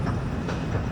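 A metro train in Kuala Lumpur rumbles loudly and steadily nearby, with a low rolling drone and a faint rhythmic clatter of the wheels.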